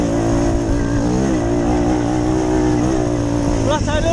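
Moped engine held flat out in top gear during a race, a loud continuous buzzing drone with steady harmonic whine, close and dominant, with a voice talking over it.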